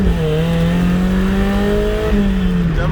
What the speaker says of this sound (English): if anybody's wondering what a Borla dual exhaust with a MagnaFlow, I don't know, resonator,